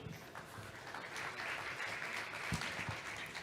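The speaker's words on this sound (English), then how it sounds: "Please, round of applause to Foundation." Crowd applause at a conference, a dense patter of many hands clapping steadily, fairly distant and soft throughout.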